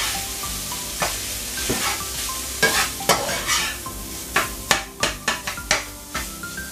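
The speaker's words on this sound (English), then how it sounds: "we're going to mix it all in the pan" Rice is stirred with lime juice in a hot frying pan, a sizzling base under repeated scraping strokes that grow into sharp, rhythmic clacks of the utensil against the pan toward the end, close and fairly loud.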